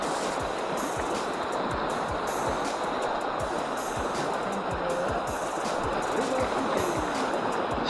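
Steady broadband rush of a cold stream flowing around an angler during stream fishing, a continuous close wash of running water with no speech over it.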